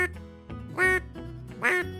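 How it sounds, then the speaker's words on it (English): A hand-blown duck call made by Sure Shot Calls gives a few short nasal quacks in uneven rhythm, close and fairly loud, with the two middle honks the strongest. "That is one pitiful duck call."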